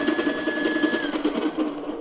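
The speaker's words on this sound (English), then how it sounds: "we are going to do a little bit of a medium fine kind of grind" A coffee grinder runs continuously on beans at a medium-fine setting, a steady whirring grind with a faint high whine, close and even.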